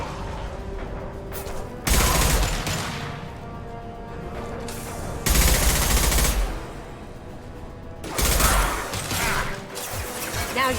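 Heavy gunfire from the Mass Effect 2 game comes in three loud sustained bursts, separated by quieter stretches of combat noise.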